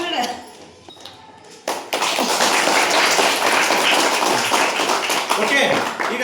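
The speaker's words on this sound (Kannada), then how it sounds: "ಎಲ್ಲ ಚಪ್ಪಾಳೆಯೊಂದಿಗೆ ಸ್ವಾಗತ ಮಾಡ್ತಿದ್ದಾರೆ." Students at a school applaud as teachers arrive, a sustained burst of clapping that starts abruptly partway through and holds loud and dense to the end, following some quieter talk at the start.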